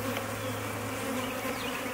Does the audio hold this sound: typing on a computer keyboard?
no